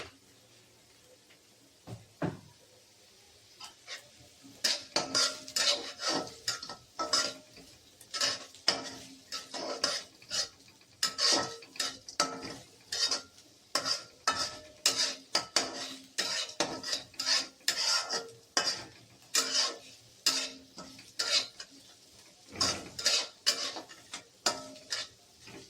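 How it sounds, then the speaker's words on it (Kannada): Onions frying for upma as a spoon scrapes and stirs them in a metal pan, giving a long run of sharp, close clinks and scrapes in an irregular rhythm, with no voices. "ಈರುಳ್ಳಿ ಫ್ರೈ ಮಾಡ್ತಿರ್ಬೇಕಾದ್ರೆ ನೀವು ಒಂದು ಸ್ವಲ್ಪ ಉಪ್ಪು ಹಾಕಿದ್ರೆ ಅದು ಈರುಳ್ಳಿ ಗೋಲ್ಡನ್ ಕಲರ್ ಬರುತ್ತೆ"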